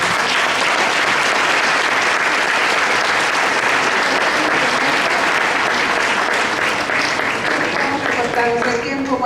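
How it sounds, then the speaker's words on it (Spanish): A crowd at a church Bible conference gives a priest another strong round of applause, a loud, continuous wall of clapping from many hands with faint voices mixed underneath, steady from start to finish. "otro fuerte aplauso al Padre."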